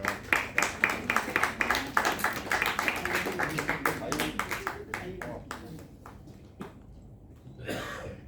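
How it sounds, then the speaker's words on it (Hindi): Audience clapping at the Jain World Mission Awards ceremony, a quick rhythmic run of claps that thins to scattered hand claps before a voice briefly speaks at the end. "तालियां रुकनी नहीं चाहिए"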